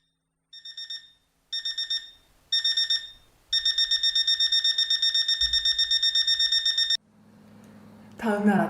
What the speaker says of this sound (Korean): 우렁차게 울리는 알람 소리